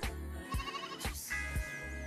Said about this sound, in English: Got a goat saying thank you to me somewhere, I just heard it